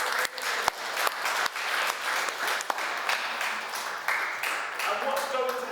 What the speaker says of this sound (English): So let's all give ourselves a round of applause.